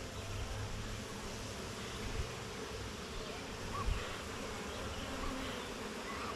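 A dense, steady hum of bees fills the air close by as a hive is opened for inspection, with a continuous buzzing drone and no speech.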